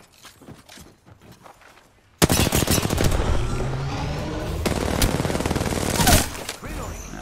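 Rapid video-game gunfire shooting straight down bursts in loudly after two quiet seconds, a dense rattling automatic stream that runs to the end with a few sharper cracks, a voice talking underneath.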